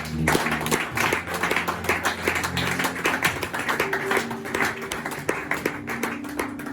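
A church congregation applauds in praise, a dense, steady wash of many hands clapping close and loud throughout, with sustained tones held underneath.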